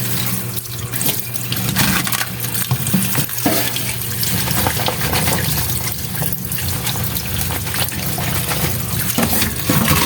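A steamer pot is washed under a running kitchen tap, a loud, continuous gush of water splashing against metal that lasts throughout with no pauses.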